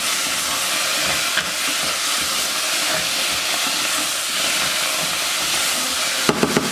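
Tomato paste and vegetables sizzle steadily while roasting in a soup pot, a dense continuous hiss with no speech, broken by a few clattering knocks near the end.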